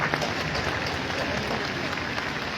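Dense, continuous applause from a large crowd at a Republic Day ceremony in a stadium in Gopalganj, steady and loud throughout with a faint murmur of voices underneath.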